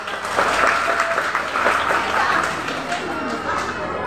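An audience claps steadily throughout at a village contest of traditional Sangihe-language adat speeches, held for the Lenganeng village anniversary, with crowd chatter mixed in with the clapping.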